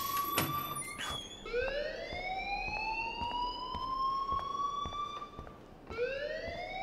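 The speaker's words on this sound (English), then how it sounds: "please turn off that alarm since that's your job" A fire alarm blares in the game Life is Strange, its rising electronic wail swelling and repeating in long sweeping cycles, with a few sharp knocks and thuds at the start.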